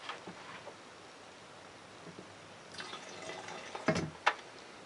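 Fuel drains from a Stihl SM180 chainsaw into a container, a faint, sparse trickle with a few soft drips, then a couple of brief louder splashes near the end.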